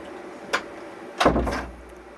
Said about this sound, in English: Can I please close the studio door?